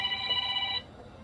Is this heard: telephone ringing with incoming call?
yes